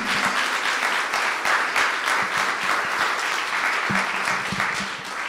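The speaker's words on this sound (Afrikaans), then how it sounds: "Kan ons hom 'n hande klap gee?" A standing church congregation claps their hands in welcome during a Sunday service, a full, sustained round of many hands with occasional sharper individual claps, steady and close throughout.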